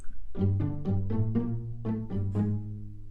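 Sustained orchestral strings from the Soundiron Hyperion Strings Micro library play a slow rising and falling phrase of chords, dry and close with no reverb or room tail between the notes.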